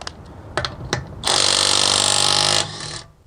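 A Makita 18V cordless impact tool re-torques a fastener with a loud, close burst of rapid hammering that lasts just over a second, preceded by a few handling clicks and followed by quiet.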